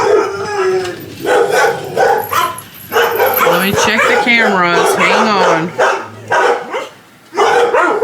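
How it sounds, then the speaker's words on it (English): Dogs across the street bark in scattered outbursts, somewhat distant, while a person talks nearby over them through most of the stretch. "The dogs across the street have been running amok today."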